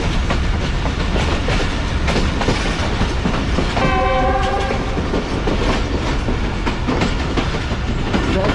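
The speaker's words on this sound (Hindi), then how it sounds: "ट्रेन ऐसा लग रहा है कि रुकने वाली है हमारी यहाँ पर।" The Tezgam train slows toward a stop: a steady, loud rumble and clatter of wheels on track fills the air, broken midway by a short horn blast.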